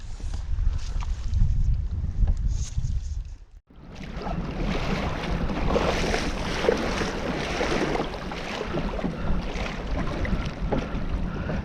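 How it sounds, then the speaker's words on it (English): Gusty wind roars and buffets outdoors over choppy, whitecapped lake water on Lake of the Woods, with a brief lull before the rushing noise returns steady and strong. "8-kilometer-an-hour winds, whitecaps."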